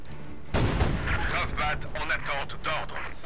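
Small arms fire during a Company of Heroes 2 battle at the Reichstag, bursts of gunshots and heavier booms crackling densely after a sudden start, with a voice heard among the shooting.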